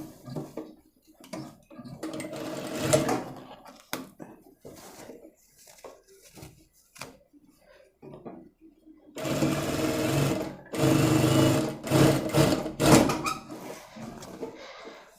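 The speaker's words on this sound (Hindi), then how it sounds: "पहले इसको हम एक बार एक सिलाई लगा लेंगे। ये वाला जो सिलाई है हमारा, ये पहले हम सिलाई दे देंगे।" A sewing machine stitches a salwar in short bursts of close, whirring mechanical running separated by pauses, with a longer steady run near the end; a person talks in between and over the stitching.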